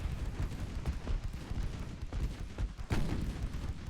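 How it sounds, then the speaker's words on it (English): Naval gunfire in Ultimate Admiral Dreadnoughts, with 2-inch, 4-inch and 6-inch guns firing, comes as a steady rumbling barrage of overlapping booms, one sharper blast standing out near the end. "4-inch guns dealing more damage than the 2-inch guns, and only after that the 6-inch guns"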